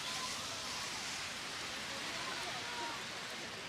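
Rain falling on a cold day at an outdoor girls lacrosse game, a steady soft hiss of rain that stays even throughout, faint and continuous.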